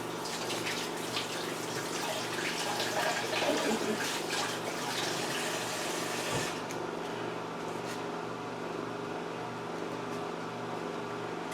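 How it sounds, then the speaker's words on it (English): Tap water runs steadily into a kitchen sink while hands are washed under it, a continuous hiss that thins out near the end. "Washing my hands."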